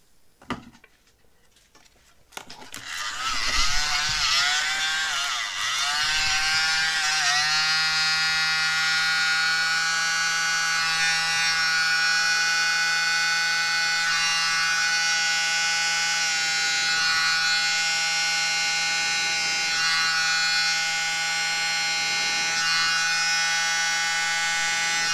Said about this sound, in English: Grab the little mini blower.